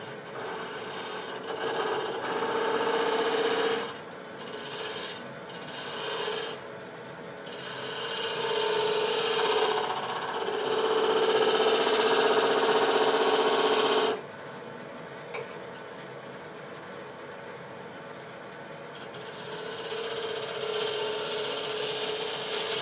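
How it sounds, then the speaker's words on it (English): A scraping tool hollows a wooden spin top turning on a lathe, giving a steady close rasping whir in long bursts broken by brief pauses, with a quieter spinning hum between passes. "Now let's use my specialty scraping tool. I made just for hollowing"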